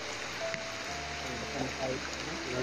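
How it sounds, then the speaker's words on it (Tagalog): Heavy rain pours down in a steady, dense hiss around an outdoor gathering, with voices talking over the downpour. "Ang lakas ng ulan mga tol"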